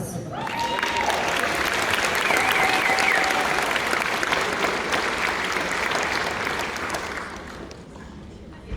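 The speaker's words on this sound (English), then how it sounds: "give it a round of applause." A fan convention crowd at a TV cast panel breaks into loud, sustained applause that swells and then tapers off near the end, with a few voices and cheers threaded through.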